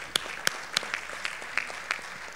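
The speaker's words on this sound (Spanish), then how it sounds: "un aplauso para ustedes por quedarse hasta esta hora" A conference audience gives scattered applause, a handful of distinct claps spaced out over a couple of seconds, faint and sparse in a quiet room.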